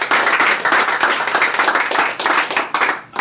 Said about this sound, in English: let's give him a loud round of applause for Larry